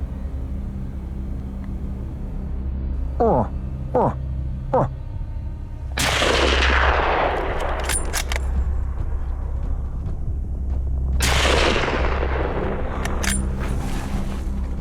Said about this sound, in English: Take a shot whenever you feel like you got a good one.